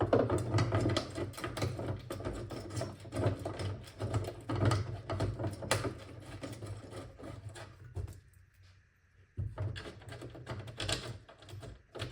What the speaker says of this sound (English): And then just bolt this bracket in place.